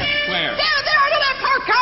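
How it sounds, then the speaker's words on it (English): A cat meows in several wavering, whiny cries close by, mixed in with people talking over it. "that's just a cat"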